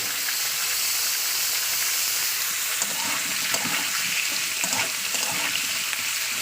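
Steady loud sizzle of sugar frying in hot oil in a pan on a gas stove while cooking prawn curry with raw cumin paste, with occasional stirring clinks over the constant hiss and no talk.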